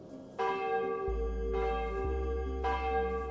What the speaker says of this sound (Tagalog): tumunog ang kampana ng simbahan